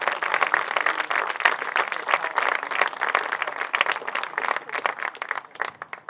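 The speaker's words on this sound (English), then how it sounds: "Please give them a rousing round of applause as well." A school audience at an Upper Nyack Elementary School ceremony gives a rousing round of applause, many hands clapping densely and steadily, thinning toward the end into scattered individual claps.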